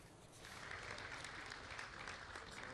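A steady wash of applause from an award ceremony audience cheering 49 winners of the Grand Prix products-and-services label. It starts after a brief quiet moment and then holds evenly loud and dense until the end.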